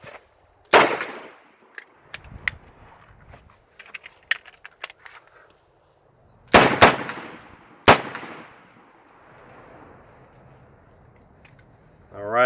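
Revolver fired at an outdoor range during a Safariland speedloader test, a handful of sharp, loud gunshots spaced well apart, two close together near the middle, with clicks and handling noises between and quiet ringing decay after each shot.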